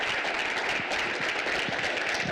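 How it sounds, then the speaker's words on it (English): Audience applause for city council candidates at a public meet-the-candidates event, a dense, steady wash of clapping filling the room for a couple of seconds with no voices over it. "Let's give them all a round of applause,"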